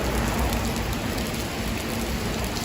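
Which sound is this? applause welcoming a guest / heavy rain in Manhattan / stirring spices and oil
heavy rain in Manhattan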